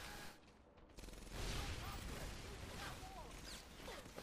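Bursts of rapid gunfire from a World War II shooter, Medal of Honor: Airborne, crackling in a dense, busy battle mix with metallic clatter, steady and moderately loud throughout.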